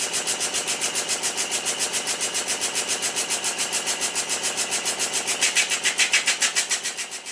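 A Stuart triple expansion model steam engine runs slowly nearby, chuffing in a steady, regular rhythm of evenly spaced beats that grow slightly louder toward the end, and nobody speaks.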